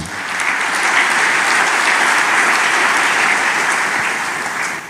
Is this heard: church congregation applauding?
yes